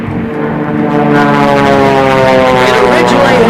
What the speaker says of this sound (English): The Waco is a very large airplane.